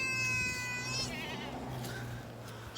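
Goats bleating at feeding time, one loud, wavering close bleat followed by fainter overlapping cries from the herd.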